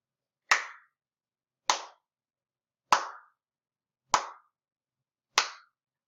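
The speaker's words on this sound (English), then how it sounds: "I clapped 5 times" Five crisp hand claps spaced evenly about a second apart, each sharp and close with a quick decay into silence.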